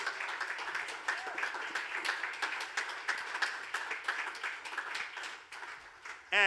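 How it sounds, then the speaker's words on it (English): Applause at a 2020 entrepreneurship recognition awards ceremony: a moderate spread of clapping from an audience, fairly even and mid-distance, continuing for several seconds before a brief louder sound cuts in at the very end. "A round of applause, please, for Undombi Nongoba and her team"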